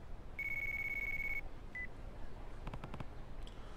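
A phone in the video game Yakuza 3 gives a sustained electronic tone, a short beep, then a quick cluster of rapid dial-like pulses, all fairly quiet over low background noise.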